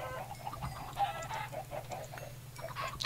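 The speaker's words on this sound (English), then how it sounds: "there's chickens everywhere and I have to deal with it" Chickens cluck repeatedly in a Minecraft game world, a busy overlapping chorus of short bird calls over a steady low hum, moderately loud and with no voices.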